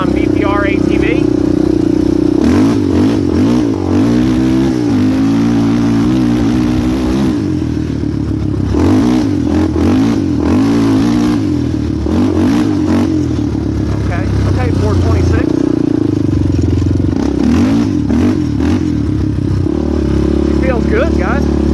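Loud, close engine of a Suzuki LT250R quad ATV with a rebuilt engine, rising and falling as it is ridden, with repeated revs and gear changes roaring throughout while someone talks over it.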